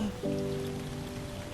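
Steady rain hisses softly in the Lushfoil Photography Sim nature walk game, a faint even wash of drops with a sustained musical tone entering and holding beneath it.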